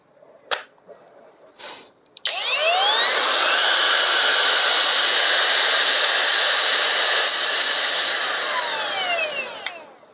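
A couple of clicks, then an OSUKA cordless brushless drill motor spins up and whirs steadily and loudly for several seconds before winding down.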